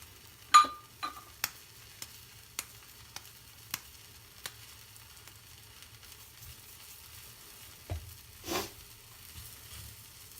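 A cheese paratha cooks on one side in a pan over medium heat, giving a faint, quiet sizzle beneath a few sharp clicks and taps of utensils, with no talking.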